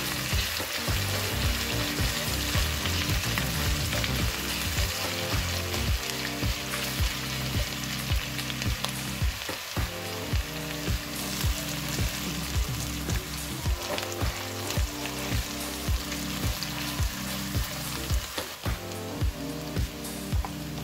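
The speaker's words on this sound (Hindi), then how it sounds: "इसे भी ऑयल में फ्राई कर लेंगे।" Steady, crackling sizzle of garlic-ginger paste frying in hot oil, close and continuous, with occasional stirring scrapes and no talking.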